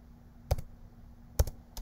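Three sharp, isolated clicks from a computer keyboard, about half a second apart, close and fairly quiet, with no talking.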